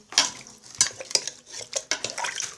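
Mutton with turmeric stirred inside a pressure cooker, a spoon scraping the metal pot in quick repeated strokes with sharp clanks, close and fairly loud.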